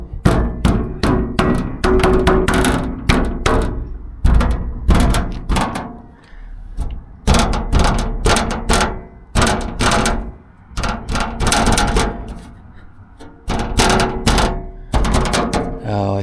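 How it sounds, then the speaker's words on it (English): Loose fender bracket on a Kenworth T680 semi truck with newly installed half fenders, rattling and banging in rapid, irregular metallic clatter bursts that repeat loudly and close throughout, broken by short pauses. "That bracket goes all the way down there, so that it's rattling against that piece down there"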